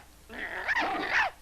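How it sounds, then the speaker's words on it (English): Several dogs barking and growling together in one short, loud burst of rough, overlapping snarls and barks lasting about a second. "I think I hear a dog."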